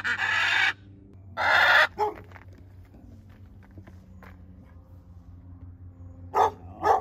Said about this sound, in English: He's just on his horse, letting his dogs bark.